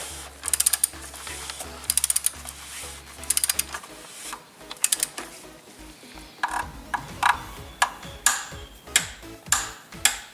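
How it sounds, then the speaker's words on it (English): A series of sharp mechanical clicks from a torque wrench during a Dodge Chrysler Jeep 3.6 Pentastar oil change, arriving in quick bursts and then as single distinct clicks, close and fairly loud with no talking. "once you hear that click, stop immediately. Do not put more torque."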